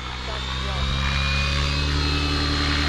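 Align T-Rex 650X RC helicopter flying at partial throttle, a steady loud engine drone with rotor buzz and a faint high whine, with people talking over it.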